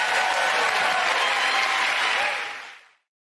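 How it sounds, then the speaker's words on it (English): A studio audience at a British comedy panel show bursts into loud, dense applause that holds steady for over two seconds, then cuts off sharply. "Get that round of applause to Frankie,"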